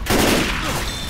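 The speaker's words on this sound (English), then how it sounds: "Can we stop shooting each other?" Gunfire in the Left 4 Dead 2 zombie shooter: a brief, dense burst of rapid shots, loud and close.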